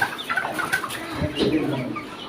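Farm-raised chickens cluck and murmur close by in a flock, short overlapping calls repeating over a low farmyard background.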